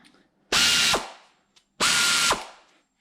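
Aircat 1/4 inch air ratchet running in two loud, sustained bursts of about half a second each, with a short quiet gap between them and no talk.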